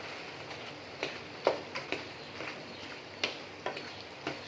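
Spices get stirred into chicken qeema in a pan, with soft intermittent scrapes and spoon knocks over a faint frying hiss.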